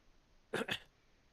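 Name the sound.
throat clearing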